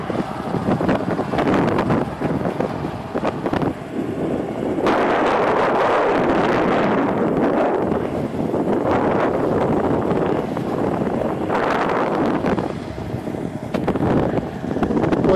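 Strong wind buffets the microphone in a loud, continuous roar with gusty surges, and no one speaks.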